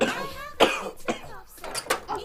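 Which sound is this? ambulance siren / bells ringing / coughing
coughing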